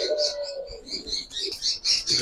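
Black female Baghdadi homer pigeon, a large bird: a short low coo comes early, then sharp chirps and tweets from other birds close by, with brief voices mixed in.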